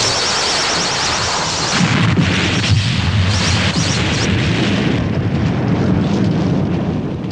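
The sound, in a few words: building being destroyed in a Godzilla movie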